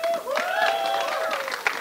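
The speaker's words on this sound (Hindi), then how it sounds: "बहुत सारी तालियां" A crowd applauds with dense, steady clapping at the trailer launch of the Punjabi film Jatt & Juliet 3, while a melodic tone rises and falls over it and a voice comes through faintly.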